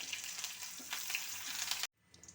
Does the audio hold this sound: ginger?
yes